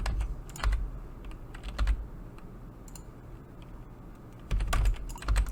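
Computer keyboard keys pressed while working in Blender, short clusters of clicky taps up close with quiet pauses between.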